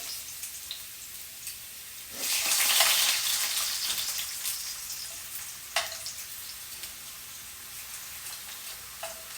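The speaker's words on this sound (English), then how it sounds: "If you haven't had rutabaga fried in your skillet, come over to the dark side, man." Rutabaga pieces sear in a hot skillet with a steady close sizzle that swells loudly for a few seconds, then settles into quieter crackling with occasional pops.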